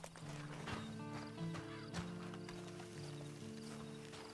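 Faint horse hooves clip-clop at a walking pace in the video game Red Dead Online, with low ambient game sounds and soft background noise underneath.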